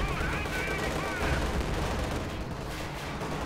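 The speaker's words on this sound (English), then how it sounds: "85mm guns opening up, high force rounds flying through the air." Dense in-game gunfire and cannon rounds in Company of Heroes 2, with 85mm guns firing amid a steady wall of rapid shots, loud and continuous throughout.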